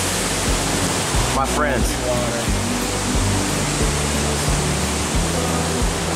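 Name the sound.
waterfall on Mt Sterling hike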